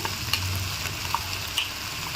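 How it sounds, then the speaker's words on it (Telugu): Cluster bean curry frying in a pan as grated coconut goes in, a steady moderate sizzle with a few small clicks and scrapes, no speech. "ఇప్పుడు ఈ కొబ్బరి తురుము వేసుకోవాలి"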